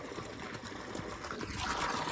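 Warm water flows from a pipe in a steady, quiet trickle, a soft continuous splashing that swells slightly toward the end with no talking.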